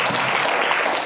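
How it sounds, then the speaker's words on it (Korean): A brief burst of group clapping from young adults at a church youth worship service, dense and even for about a second. "네, 박수하겠습니다."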